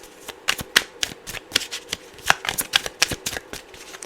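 Tarot cards shuffled up close in rapid, crisp clicking and slapping bursts, moderately loud and steady, with no voices.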